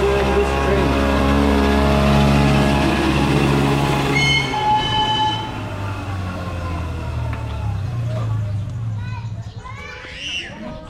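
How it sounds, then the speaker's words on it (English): A passenger train pulls away on a tourist ride, its low engine drone and rail rumble steady and close, a horn-like tone sounding midway as people chatter and children call out around it. "we're gonna go in this train."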